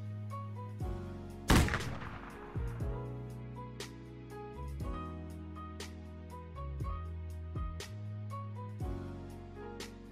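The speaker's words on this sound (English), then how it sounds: "The musket is the sound that I just made right there." A single loud musket shot in the survival game Unturned cracks out near the start with a heavy boom and decaying rumble, set over looping game music with a steady melodic pattern.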